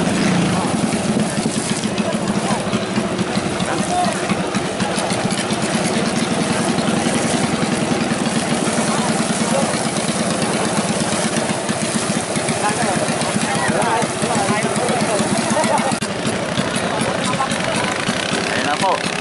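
A racing boat's engine runs with a continuous loud rumbling drone at a bangkarera festival in Calamba, Laguna, under constant crowd noise and a commentator talking throughout.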